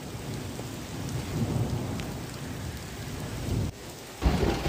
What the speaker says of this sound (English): We lost power. It's storming.